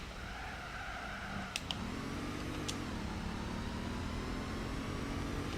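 A Le Mans racing car's engine in Gran Turismo 4 drones steadily, then its pitch dips and climbs again as the revs change, with a couple of brief clicks near the start.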